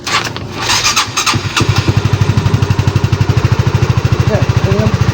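A 2015 motorcycle starts up and settles into a loud, close, steady idle with a rapid even pulse, some brief speech and noise before it catches.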